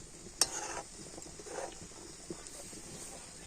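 Milk with jalebi boiling in a pan: a steady bubbling, sizzling simmer with occasional light stirring and clinks, close and moderately quiet, with no talk.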